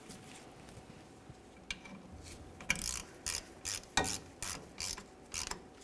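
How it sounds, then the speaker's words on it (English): Repeated ratchet clicks while a T40 Torx bolt on the rear center brake hose of a 1999-2006 Chevrolet Silverado 1500 is snugged down, several short bursts in a steady rhythm, close and moderately loud, with no talk. "Start in your T40 Torx bolt and snug it up."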